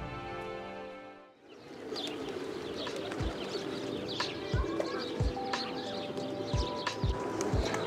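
Pigeons coo repeatedly in Pigeon Valley, Cappadocia, their low rhythmic calls coming close and steady after a brief quiet start, with other birds chirping faintly and light outdoor ambience around them.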